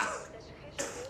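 A person coughs in an episode of the TV series The Expanse, a short harsh burst near the end that cuts through ongoing dialogue and background sound.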